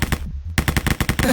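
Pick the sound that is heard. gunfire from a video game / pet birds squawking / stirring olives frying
gunfire from a video game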